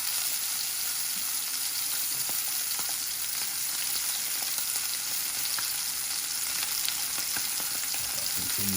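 A fish fillet sizzles in a hot pan, a steady close crackle of frying oil that holds even and continuous throughout.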